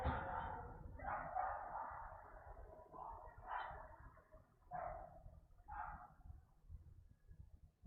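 A dog barks several times at a distance, short spaced woofs separated by pauses of about a second, over a low rumbling background.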